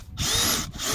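A Dewalt DCD805B 20V Max hammer drill fitted with a dull bit grinds into material with a loud, steady whirring rasp, briefly cut off at the start and again near the end.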